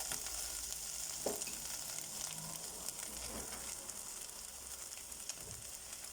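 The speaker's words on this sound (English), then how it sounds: "And then we're going to cook this flour out." Flour frying and being stirred in a pan of steak pie filling, a steady close sizzle with scraping stir sounds and a few soft knocks of the spoon, no talking.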